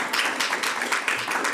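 An audience at a board of education meeting claps in a dense, steady round of applause that fills the room for a moment.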